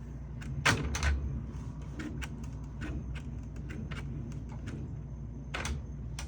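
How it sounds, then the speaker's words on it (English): The glass lid of a Whirlpool/Maytag washer, its glass lifting from the base, is opened and shut, with a firm thud and rattling clicks early on and scattered light knocks afterward, close and without talk. "I'm gonna open this door and close it, and you'll see."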